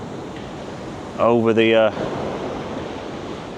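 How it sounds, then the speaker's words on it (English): High-tide waves break against the tall Blackpool sea wall in strong wind, a continuous roaring wash with someone speaking briefly over it. "you can just see some of the waves just crunching"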